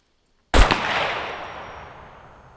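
A single loud rifle shot in the survival video game SCUM bursts in after a moment of silence, then a long echoing tail fades slowly.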